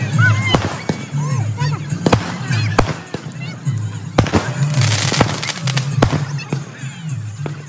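Firecrackers go off in rapid, irregular sharp bangs and crackles, close by, at a Dussehra celebration, with people talking and shouting in the background.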